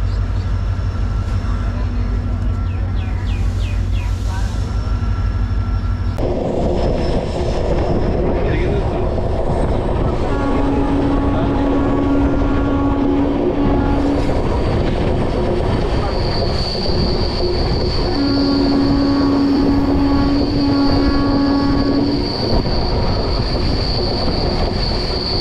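A train runs loud and close through Barsoi Junction railway station, rumbling steadily with wheel clatter and long, high-pitched squeals of the wheels on the rails, and no voices are heard.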